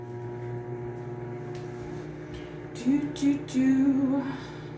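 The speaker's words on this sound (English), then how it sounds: "So I got 2 tablespoons of butter in the bottom. Just gonna melt that for about 30 seconds." A microwave oven hums steadily as it melts two tablespoons of butter in a Tupperware stack cooker, a low constant drone with a few brief clicks and tonal warbles over the steady run.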